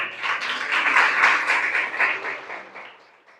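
Church congregation applauding, a close burst of clapping that swells and then tapers away over a few seconds.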